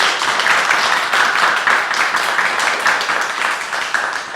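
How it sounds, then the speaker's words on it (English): An audience claps after a story, with dense, continuous applause from many hands, fairly loud and close, holding steady throughout before easing slightly at the end. "Let's clap."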